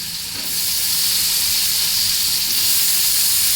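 Chopped eggplant pieces dropped into hot oil in a pan, rising after a brief moment into a loud, steady, close hiss and sizzle that continues without pause.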